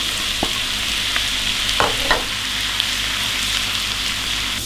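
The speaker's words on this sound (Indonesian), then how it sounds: "Kita lanjut goreng kencur." Grated kencur, aromatic ginger, fries in hot oil with a steady, even sizzle. A few soft clinks and scrapes of stirring break through it, with no voices.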